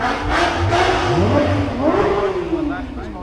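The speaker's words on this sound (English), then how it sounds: "That is definitely a Corvette." A Chevrolet Corvette passes nearby, its V8 engine revving and rising in pitch as it goes by, heard over a steady drone from the recording car's own engine along a South Florida road.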